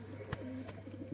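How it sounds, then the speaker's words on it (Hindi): A pigeon that has just landed gives a brief, soft, low coo, close by and heard on its own. "ये जो उतरा है, ये गुटक रहा है"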